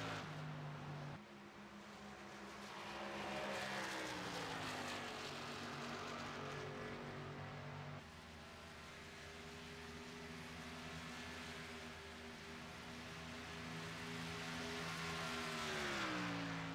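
Camping World Truck Series trucks racing on the track at Indianapolis, a loud continuous engine drone whose pitch rises and falls as the trucks accelerate and pass.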